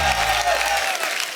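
Studio audience applause on a TV comedy talk show, loud continuous clapping from a large crowd welcoming a guest, with a sustained musical tone fading out early beneath it.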